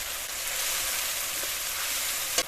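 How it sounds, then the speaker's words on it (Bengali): Ground whole spice paste sizzling and frying with browned onions in a pan for a village-style potato and fish curry, a steady close crackling hiss with a brief sharper spatter at the very end. "মশলাটা খানিকক্ষণ কষিয়ে নেব"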